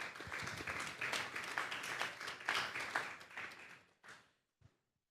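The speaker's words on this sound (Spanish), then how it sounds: "Démosles un fuerte aplauso al Señor" A church congregation applauding at a Sunday service: dense, steady clapping at moderate distance that swells in waves, then tapers off with a few last claps.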